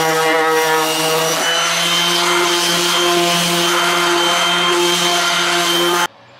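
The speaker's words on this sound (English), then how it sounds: "I just finished sanding all the 1x4s in the little Harbor Freight Chicago electric orbital sander" A small Harbor Freight Chicago Electric orbital sander whirs steadily and loudly at close range while sanding 1x4 boards, a constant buzzing drone with a strong hum that cuts off abruptly near the end.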